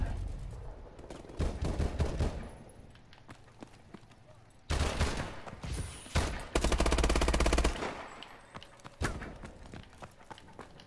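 Covering fire in Call of Duty Advanced Warfare: loud, rapid automatic bursts come in several separate volleys, with quieter gaps and clatter between them.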